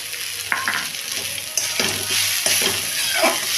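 Peanuts frying with radish greens in a pan, a close sizzle broken by repeated scraping stirs and clinks of a spoon against the pan, with no talking.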